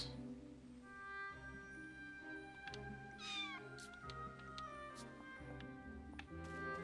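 Cats meow in the video game The Adventures of Elliot: The Millennium Tales. Several clear, rising meows stand out over sustained, tonal game music and ambient sound.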